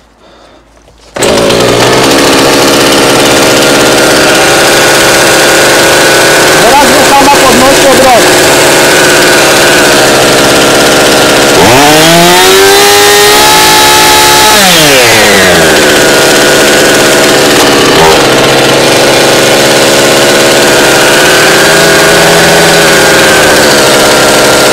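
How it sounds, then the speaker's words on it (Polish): A Husqvarna chainsaw engine with an air leak starts and runs loud and close, idling steadily with a couple of revs that rise and fall in pitch. "Odpalimy teraz pilarkę nieszczelną."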